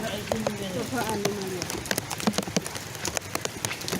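Rain driven by strong wind patters steadily on surfaces in a village, with sharp drips and gusty hiss throughout, while people talk underneath.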